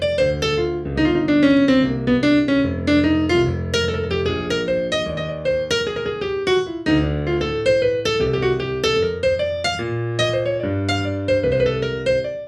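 A solo improvised melody on a pitched instrument, busy with quick ornamental trills and rapid runs over sustained low notes, played continuously and close.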